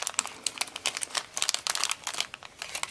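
Paper folded and creased by hand while making a small card envelope, a close, rapid series of crisp crinkles and rustles with uneven bursts and no talking.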